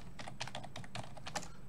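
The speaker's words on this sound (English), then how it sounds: "I wasn't intending to do any typing at all" Rapid typing on a computer keyboard, a quiet, dense run of clicking keystrokes in quick bursts, alone with no voices.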